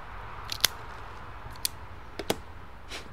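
A cutter snips the cap off an Odyssey Sweet Cap cigar, giving a few sharp, quiet clicks spread across a few seconds. The snips stand alone with no talking.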